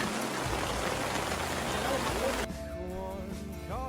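Cold rain falls steadily on a mountain, a dense, close hiss that cuts off partway through, giving way to quieter background sounds with faint voices.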